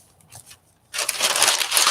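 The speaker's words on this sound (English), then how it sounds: "Our painter's masking paper in the larger size that we fold down." Large painter's masking paper folded down by hand for a gluebook cover, a few soft crinkles at first, then a loud, sustained crumpling rustle close by.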